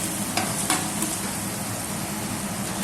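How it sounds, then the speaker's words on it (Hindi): Onions frying in a pan as they are stirred, a steady close hiss of sizzling oil with a few light scrapes, continuous and alone without talking. "अब इसको अच्छे से मिक्स कर देंगे प्याज के अंदर। अब ये थोड़ा भून जाएगा"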